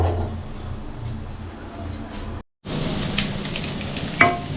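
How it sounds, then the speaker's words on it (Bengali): Onions sizzle steadily in a pan while being stirred for Maggi noodles, a continuous frying hiss broken by a brief silent cut, with a few scraping clinks of the spatula near the end. "পেঁয়াজগুলো ভেজে নিয়ে তার ভিতরে মশলা দেওয়া হলো"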